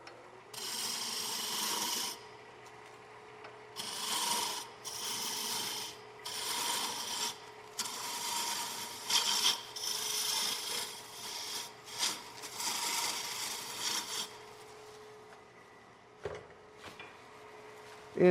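Gouge cutting a spinning wooden peppermill on a wood lathe, repeated rasping, scraping passes of a couple of seconds each over a low steady motor hum, fairly close.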